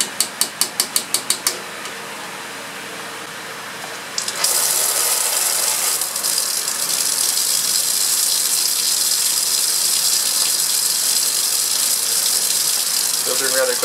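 Vacuum filtration pulls liquid from a pyridinium chlorochromate (PCC) preparation through a filter, leaving orange powdery solid: a few quick ratcheting clicks, a quieter pause, then a loud, steady rushing hiss of suction that continues to the end.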